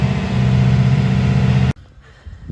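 Yanmar marine diesel engine running steadily as it warms up, a loud continuous close drone that cuts off abruptly, leaving quiet background knocks and handling sounds.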